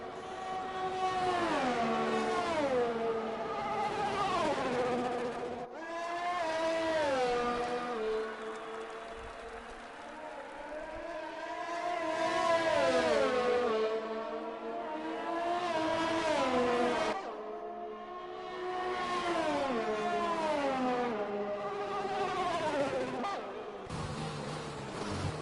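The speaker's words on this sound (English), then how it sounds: "you can hear Happy Kilmore's car in the background" Racing car engines in a racing video game's Italian Grand Prix drone and whine steadily with rising and falling pitch as gears shift, a continuous loud roar with brief dips between passes.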